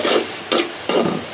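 Onion frying with ginger and garlic paste in a pan, sizzling steadily while a utensil scrapes and stirs in three short, close strokes.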